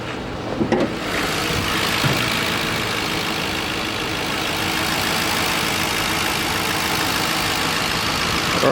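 A 2007 Ford Crown Victoria Police Interceptor engine runs at a steady, even idle, heard up close as a continuous broadband rumble for several seconds with no one speaking.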